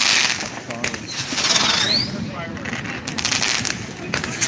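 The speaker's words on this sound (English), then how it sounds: "you can't see the other fireworks because they're so far behind me" Fireworks crackle and pop on New Year's Eve in New Orleans, a dense mix of sharp bursts and crackling over crowd noise and nearby voices.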